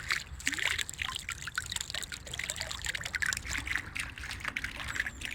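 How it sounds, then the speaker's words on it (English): A small public drinking fountain on a Yerevan street running with a light, steady trickle and splash of cold water, close by, alongside faint background noise. "we've got these little water fountains all over the place"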